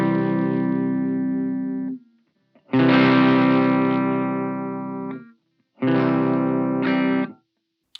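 Electric guitar run through a Blackstar Dept 10 tube boost pedal set just below breakup, three loud sustained chords each left ringing for a couple of seconds, separated by brief silences.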